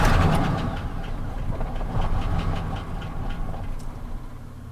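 Neglected 2002 Chevy Silverado GMT800 truck engine cranking and running roughly with knocking and mechanical clatter, a steady close rumble with slight level swells and no talking.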